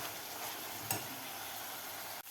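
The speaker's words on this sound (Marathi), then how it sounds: "आणखीन आपल्याला 1 मिनिट हे कांदा परतून घ्यायचा आहे." Chopped onion sautéing in a pan for kanda poha gives a steady, moderately quiet sizzle throughout, with a brief louder scrape of stirring partway through and a short clatter near the end.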